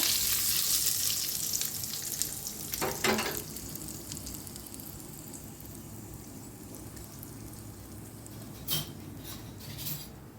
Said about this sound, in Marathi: आता गरम गरम फोडणी ओतायची ह्याच्यावर।